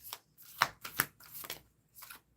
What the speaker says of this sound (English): you guys saw I was shuffling, right?